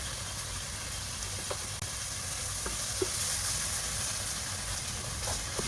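Tomato paste sizzles and fries steadily in a pan, a continuous crackling hiss with occasional small pops and stirring clicks, moderately loud and close.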